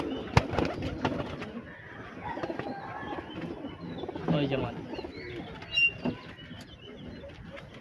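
Punjabi pigeons kept at a home loft, giving soft, low coos and occasional chirps among scattered handling noises, while a person talks briefly nearby.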